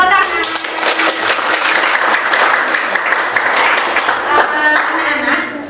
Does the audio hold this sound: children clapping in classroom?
yes